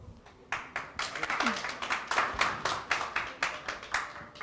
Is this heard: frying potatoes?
no